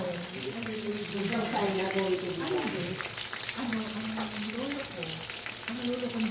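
Tawilis fish frying in a pan, with a steady bright sizzle and crackle throughout while voices talk over it in a wavering, sing-song manner.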